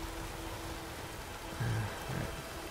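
Steady rain falling in The Witcher 3: Wild Hunt, a soft continuous wash of drops with faint low rumbles rising briefly near the end.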